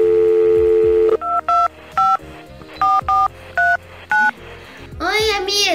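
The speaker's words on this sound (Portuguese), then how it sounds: "Ah, eu vou ligar pra ela," A phone dials in Roblox Brookhaven: a steady dial tone gives way to seven crisp, evenly spaced keypad beeps, each short and loud, followed by a warbling ringing tone.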